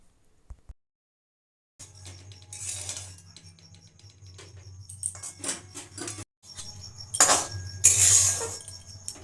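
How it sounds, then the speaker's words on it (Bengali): Carrot and rice tinted with saffron colour are fried and stirred in a pan for a colourful pulao. A metal spoon scrapes and clinks in irregular bursts over a low, steady burner hum. "গাজরটাকে চালের সঙ্গে ভালো করে ভেজে নেবো"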